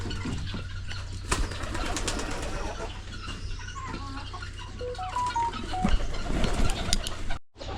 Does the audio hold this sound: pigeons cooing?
yes